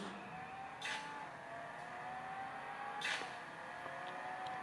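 Car racing video game played on a Panasonic Lumix DMC-CM1 phone, a faint steady engine drone with two brief louder whooshing bursts, no talk.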